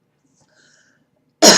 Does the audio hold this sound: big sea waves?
no